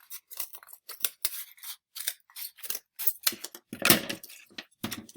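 Handheld cutters slice through cardboard at an angle, giving a close series of crisp, short snips and crunches in an irregular rhythm, one louder crunch near the end, with silence between cuts.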